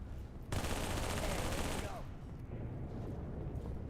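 Heavy automatic gunfire in Halo 3 erupts after a brief lull, a loud dense burst of rapid shots lasting over a second, then tapers into scattered continuing fire and battle noise.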